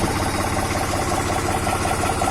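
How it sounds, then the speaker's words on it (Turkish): A New Holland TT4 tractor engine idles just after starting, a loud, steady diesel rumble with an even pulsing throb, close and continuous with no talk over it. "çalıştı traktörümüz"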